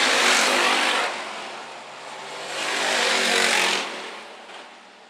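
IMCA Hobby Stock race cars roaring around a dirt track during a feature race, loud engine noise swelling and fading as cars pass by, with no talk.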